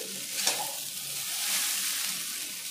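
Chicken chow mein noodles being mixed and stir-fried in a pan, a soft continuous sizzle with one sharp clank of a utensil near the start, fairly quiet and with no voices.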